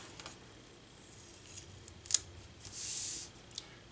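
Scissors snip through planner sticker paper in a quiet room, with a few brief crisp cuts and a longer sliding slice near the end, no talking.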